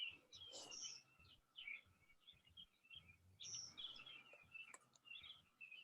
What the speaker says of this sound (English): Is that the birds with you, Emily?